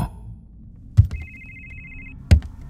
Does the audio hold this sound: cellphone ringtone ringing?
yes